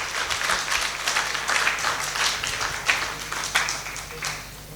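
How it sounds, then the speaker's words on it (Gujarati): Audience applause fills a Shrimad Bhagavat Katha gathering at a temple in Leicester, a dense, steady wash of many hands clapping together for the full stretch, with small swells and no speech over it. "તાળીઓથી વધાવશો."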